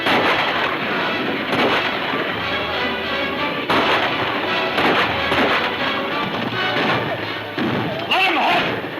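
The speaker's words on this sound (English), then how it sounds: "Shoot over their heads first." Gunshots in a western film showdown, several sharp bangs spread across a dense, loud scene with shouting voices and commotion throughout.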